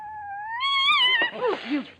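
A nervous cat gives one drawn-out, rising meow close by, which breaks into rougher, wavering cries toward the end.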